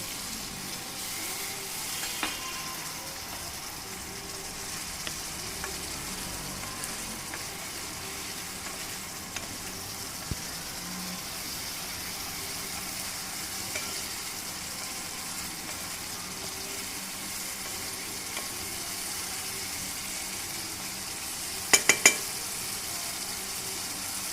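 Marinated mutton sautéing in oil for a mutton doi roast, giving a steady, even sizzle and hiss throughout with a few faint clinks and a brief sharp rattle near the end.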